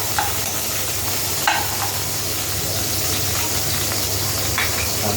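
Ginger and garlic sautéing in a pan for a squash and string bean coconut dish, a steady close sizzle with occasional stirring scrapes and clinks throughout.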